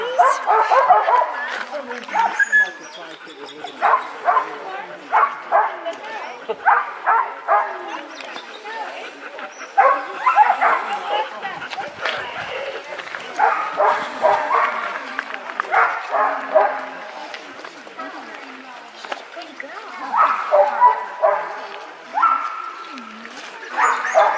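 Alaskan sled dogs in Skagway bark, yip and whimper in repeated excited bursts close by, with people talking among them.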